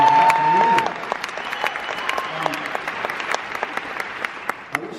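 Audience applause at a songwriters' circle: steady clapping from a crowd fills the room, loud at first and then settling into a sustained, even patter after a brief sustained tone at the start.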